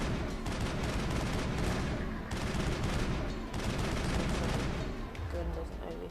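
Rapid, loud gunfire from a non-overheating rifle in the sci-fi game Mass Effect, a dense unbroken volley that briefly slackens twice and then thins toward the end.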